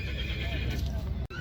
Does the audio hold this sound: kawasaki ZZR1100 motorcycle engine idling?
no